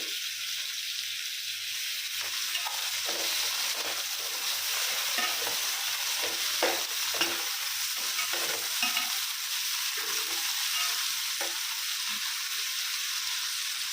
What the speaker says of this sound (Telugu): ఇప్పుడు టమాటా వేసుకోవాలి కొద్దిగా కరివేపాకు